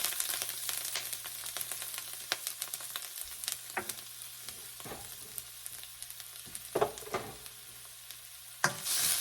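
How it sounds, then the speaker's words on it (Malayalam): Steady soft sizzle of ginger frying in oil for fish curry, broken by occasional clinks and scrapes of a spoon stirring the pan. "ഇഞ്ചി ഒന്ന് മൂപ്പിക്കുക"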